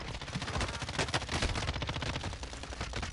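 Rapid gunfire bursts in a video game, dense overlapping shots in quick automatic rhythm, loud and close throughout, with no clear talking.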